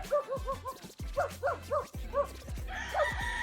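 Dogs barking in repeated loud bursts dominate a chicken farm, with chickens and a rooster crowing faintly in the background.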